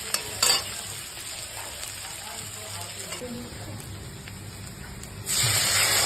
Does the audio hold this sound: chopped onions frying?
yes